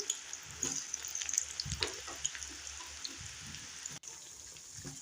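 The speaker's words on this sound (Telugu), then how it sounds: "మిగతా కాకరకాయ ముక్కలు కూడా అలాగే డీప్ ఫ్రై చేసుకోవాలి" Bitter gourd pieces deep fry in hot oil with a faint, continuous bubbling sizzle, broken by scattered soft clinks and stirring noises and a brief dropout near the end.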